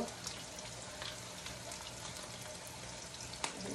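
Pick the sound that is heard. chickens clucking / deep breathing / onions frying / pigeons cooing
onions frying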